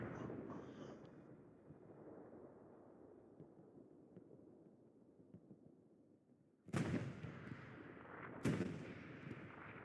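Artillery shells slam down in a Hell Let Loose tank battle, with two heavy, loud blasts arriving a couple of seconds apart after a long stretch of low rumbling combat noise.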